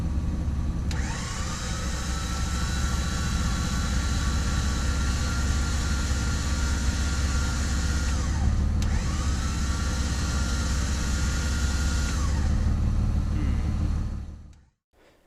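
A Superwinch winch on a Dakota bumper runs under test with a loud steady motor whine and drone, changing pitch twice as the spool starts and stops, then cuts out near the end with no talk.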